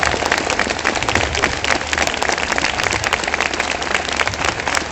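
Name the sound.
audience applause for the villagers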